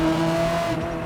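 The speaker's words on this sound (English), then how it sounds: "a delightful, scrumptious, flavorful exhaust" Ferrari 360 with a 3.6-liter V8 of about 395 horsepower, its exhaust droning at steady revs with strong harmonic tones, loud and close, easing slightly near the end.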